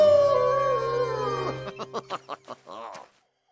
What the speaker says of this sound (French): C'est le retour des grands méchants loups!